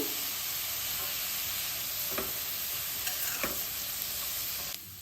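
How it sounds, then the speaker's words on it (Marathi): Onion, green chillies, ginger and garlic sautéing in a pan for misal, a steady faint sizzle with a few soft scraping stirs, no voices. "आपल्याला कांदा मऊ होईपर्यंत परतून घ्यायचा आहे"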